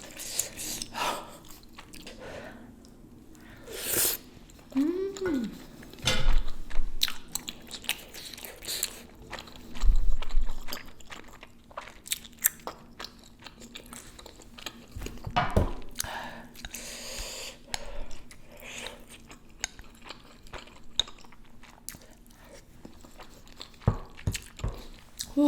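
Mukbang eating with close, intermittent crunches, bites and wet chewing sounds scattered across the clip, with quiet gaps between mouthfuls.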